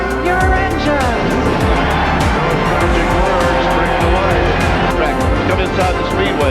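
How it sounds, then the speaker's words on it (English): Race car engines roar at the Indianapolis Motor Speedway, a loud, dense and continuous mass of overlapping engine noise with rising and falling pitch sweeps that carries through the whole stretch. "Gentlemen, start your engines."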